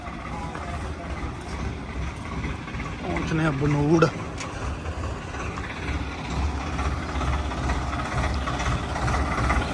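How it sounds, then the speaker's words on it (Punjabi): Several tractors hauling sand in Punjab run with a steady, loud low engine rumble throughout, while people talk over the drone and a brief tonal whine rises and fades partway through. "ਟਰੈਕਟਰ ਹੋ ਗਏ ਇੱਥੇ 2 3 4 5 ਇਹ ਦੋ ਟਰੈਕਟਰ ਆ ਗਏ"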